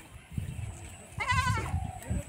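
A single Black Bengal goat bleats clearly in a wavering, quivering call lasting about half a second, over a low background rumble.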